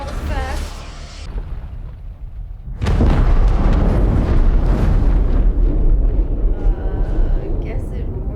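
A torpedo explosion in the sci-fi TV series The Expanse, a sudden loud boom that swells into a sustained roaring rumble running to the end of the clip, following a brief stretch of voices and ship ambience.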